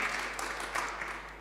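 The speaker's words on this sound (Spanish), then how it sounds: "Ha sacado aplausos." Audience applause fills a seminar hall at a Chilean public-policy event on crime, a dense, steady wash of many hands clapping at once, heard from some distance at moderate volume with no speech over it.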